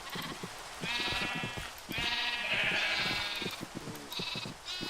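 Sheep bleat in a Minecraft-style building game: a series of wavering, nasal bleats, several of them back to back and fairly close, over a soft background with no talking.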